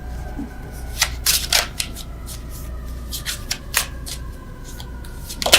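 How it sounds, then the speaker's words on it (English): Tarot cards riffle and slap in quick, irregular bursts close up, with a faint background hum. "Terrible shuffling with you guys."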